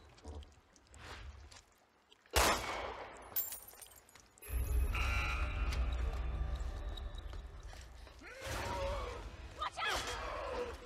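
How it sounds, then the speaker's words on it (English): A gunshot rings out in the Resident Evil Revelations 2 video game as a character fires at a key out of reach, a sharp single blast followed by a rumbling game soundscape, with speech in the scene. "Let me try shooting it down."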